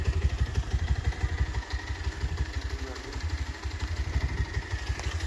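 A motorcycle engine idling nearby, a steady rapid chugging throb that holds an even rhythm throughout.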